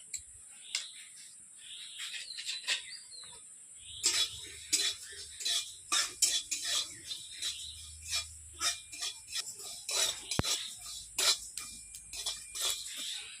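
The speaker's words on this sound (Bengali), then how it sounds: "এইগুলো আমি সব একসঙ্গেই শুকনো কড়াইয়ে ভেজে নেবো" Whole spices for panch phoron, including coriander, cumin, fennel, fenugreek and nigella seeds, dry-roast in a dry wok, giving quiet irregular ticks, scrapes and light clinks that grow busier as stirring picks up, close and faint.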